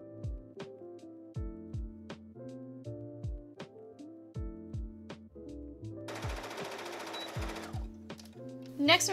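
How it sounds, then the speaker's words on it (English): A sewing machine stitches bias tape around a corset bodice for a prom dress in short, rapid bursts of needle hammering separated by pauses. It sounds close and moderately loud, and a rush of broader noise fills the last few seconds. "I'm just going to very carefully sew all around this"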